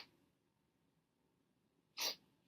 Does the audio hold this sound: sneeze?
yes